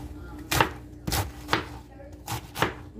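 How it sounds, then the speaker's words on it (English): Cabbage chopped with a knife on a cutting board set over a paper towel, giving five distinct, fairly close thuds at an uneven pace against a quiet background. "I like to cut mine a little small, even though the cabbage is going to cook down very small."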